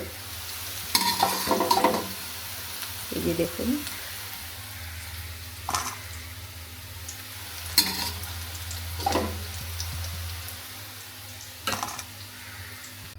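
Soybean chunks fry in a pan of hot oil, with intermittent scraping stir strokes and short sizzling bursts over a steady low hum. A voice speaks briefly.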